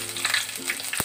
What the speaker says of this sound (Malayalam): ചട്ടി വെച്ച് എണ്ണ ഒഴിച്ചിട്ട് നല്ലോണം ചൂടായിട്ട് നമുക്ക് ഫസ്റ്റ് തന്നെ കറിവേപ്പില ഇട്ട് കൊടുക്കാം.